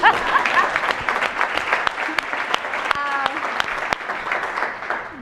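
Audience clapping for a nonprofit CEO taking the stage at a talk on randomized trials, a dense, fairly loud burst of many hands that fills the room and tapers slightly toward the end, with a voice briefly heard over it.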